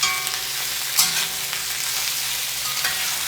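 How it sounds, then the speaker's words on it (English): Potatoes sizzle steadily in a hot cast iron wok, with scraping stir strokes and occasional sharper clinks over the constant frying hiss. "the sight of potatoes stir-frying in a cast iron wok"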